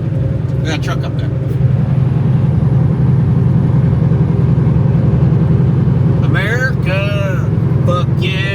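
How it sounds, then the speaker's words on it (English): Truck engine droning loud and close in a steady low rumble, with people talking briefly over it near the end. "We got a truck up there."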